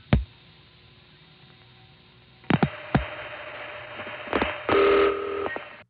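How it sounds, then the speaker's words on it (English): Telephone call switching through the Monticello crossbar tandem exchange in 1974, with sharp clicks and clunks of relays, faint hum, and a steady tone burst near the end, heard close on the line. "On those last three calls to Monticello, you could actually hear the Monticello Crossbar Tandem being used."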